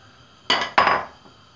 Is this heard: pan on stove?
yes